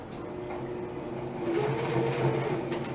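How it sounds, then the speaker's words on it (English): A sewing machine stitches a skirt, a low steady mechanical whir with a faint rhythmic hum that grows slightly louder and faster halfway through. "Do the first couple stitches very slow."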